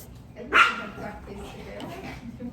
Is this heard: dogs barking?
yes